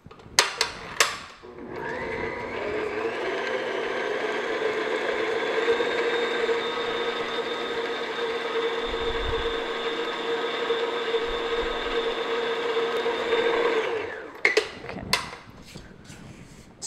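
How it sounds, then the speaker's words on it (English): An electric mixer beats butter with light brown sugar in a steady, even whir lasting about twelve seconds, with clatter as it starts and stops. "And I'm just going to beat this until it's light and fluffy,"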